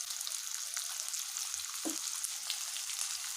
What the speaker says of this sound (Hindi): इसको फ्राई होना है, उसमें ये पूरा ब्राउन हो जाएगा।